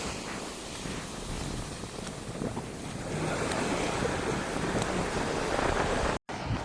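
Sea waves wash against the coast at Kilinochchi in a continuous roar, with gusty wind buffeting the microphone and the surf growing louder partway through.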